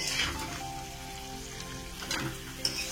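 Potato pieces fry in hot oil with salt and turmeric, giving a steady, close sizzle that crackles evenly throughout with a few sharper spits near the end.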